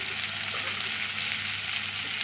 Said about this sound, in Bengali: এই যে ভাজা চিংড়িগুলো আমি একসঙ্গে দিয়ে দিলাম